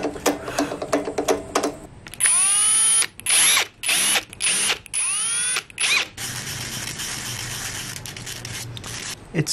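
Power drill boring tuner holes through the headstock of a handmade guitar, run in several loud whirring bursts that rise in pitch and stop abruptly, close by, followed by quieter workshop noise.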